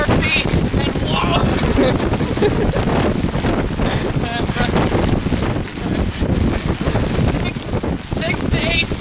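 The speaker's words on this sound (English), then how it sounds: "about 30, 40 mile per hour winds right now" Strong wind gusting at 30 to 40 miles per hour from Hurricane Harvey remnants on Long Beach Island, with surf nearby, roaring into the microphone as a loud continuous rush with a voice talking over it.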